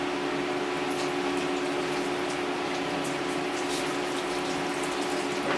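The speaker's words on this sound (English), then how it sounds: "Rinse the blade off." Running water rinses grit off an ice skate blade and a honing stone, a steady continuous stream with faint low hum underneath, close and alone with no talking.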